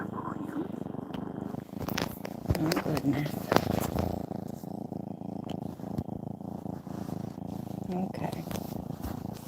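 A cat purrs steadily near a laptop, a continuous low rhythmic rumble heard under brief speech from a woman nearby.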